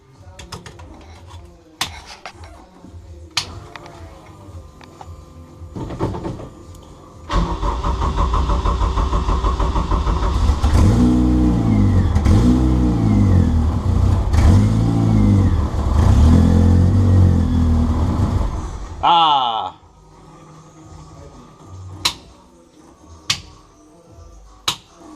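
A Honda K20 engine fitted in a Peugeot 205 cranks, catches and idles loudly, then is blipped through several rising revs before cutting off, with clicks and small tool noises before and after.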